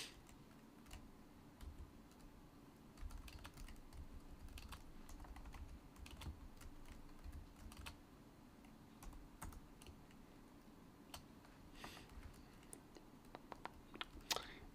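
Keys on a computer keyboard being typed while writing C++ code, heard as irregular, fairly quiet clicks and taps in uneven bursts over a steady low background hum, with no voices.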